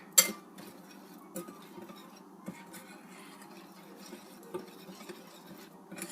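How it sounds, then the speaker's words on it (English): A whisk stirs seasoned flour with ground ginger in a bowl, giving faint, irregular clinks and taps of metal against the bowl with soft scraping in between. "we're just going to mix this together with a whisk"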